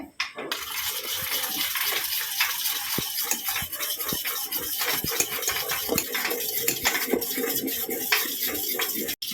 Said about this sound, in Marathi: आता याच्यावरती आपण ना थोडस पाणी घालायचं आणि हे मिक्स करून घ्यायचंय